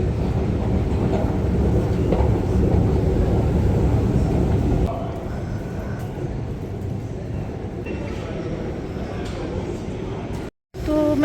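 Busy train station ambience near the Thames with a train passing: a loud continuous rumble and clatter of rail cars that drops in level midway, ending with a brief cut to silence.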